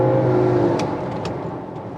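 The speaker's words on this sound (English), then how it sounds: "Engine sounds different. It's revving faster." A BMW X5 4.6is engine in sport mode revs steadily at close range, its pitch climbing under a constant drone of road and cabin noise.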